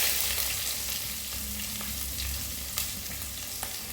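Chopped shallots and garlic fry in a pan for a Kerala leaf thoran, a loud continuous sizzle up close broken by a few sharp spoon scrapes as they are stirred, with no voices.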